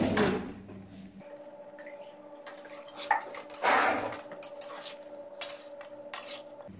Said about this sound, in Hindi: अब हम इसमें अदरक लहसुन का पेस्ट यहाँ पे डाल देंगे।